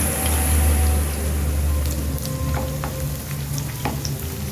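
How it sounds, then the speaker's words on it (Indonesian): Starch-filled wonton dumplings (pangsit goreng) frying in hot oil, a steady loud sizzle with crackling pops running throughout, no voices over it. "Untuk makanan pendampingnya ibu bikin pangsit goreng ya, ibu isi pakai pati aja"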